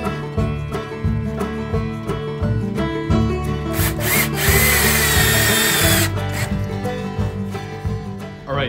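A power drill drives screws into a wooden farmhouse table being assembled with construction adhesive, the motor whining loud and close in several sustained bursts with brief pauses and speed changes between them.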